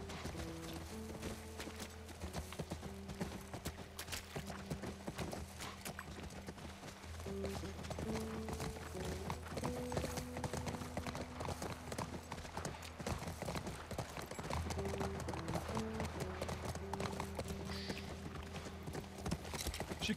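Horse hooves clip-clopping at a quick steady pace in the video game The Last of Us, continuous and fairly close throughout, with faint music tones underneath.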